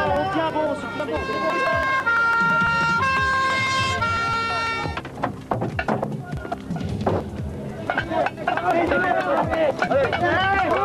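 A fire engine's siren wails in a clear repeating two-tone pattern close by for about five seconds. A dense jumble of engine noise, clatter and loud voices follows.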